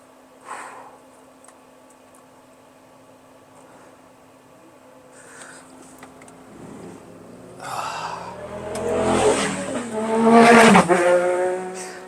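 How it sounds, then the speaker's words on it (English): Motorbikes pass on a road in the Peak District, starting faint and far, then swelling into a loud close engine roar with a rising and falling pitch sweep near the end. "There's a lot of motorbikes about today."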